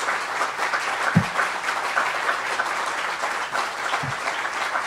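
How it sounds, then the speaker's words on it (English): An outdoor crowd at a visitor center groundbreaking ceremony claps together in sustained, fairly loud applause, a dense even patter with a couple of low thumps mixed in. "How about a big round of applause for this great family?"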